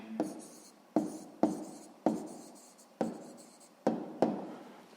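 Pen or pencil strokes on paper as a math answer is written down, a run of about eight short scratchy strokes with sharp starts and fading tails, close and quiet, with no talking.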